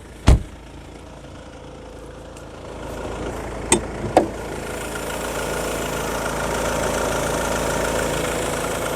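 A 2011 Mercedes C220 CDI with a 2.2-litre twin-turbo four-cylinder diesel idles with the hood open, a steady close clatter under a few sharp knocks and clunks.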